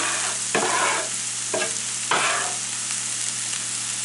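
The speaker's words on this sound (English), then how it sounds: "I'm going to saute my onion just a little bit before I add my hamburger" Onion sautés in a pot, the first step of a ground beef tater tot casserole, with a steady close sizzle and a few louder scraping stirs of a utensil at a regular pace.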